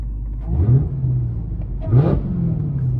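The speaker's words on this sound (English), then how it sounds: "let me rev it for you guys" A wide-body Dodge Charger Hellcat's engine idles with a low rumble, then is revved twice, each rise swelling loudly up and falling back to idle, heard up close.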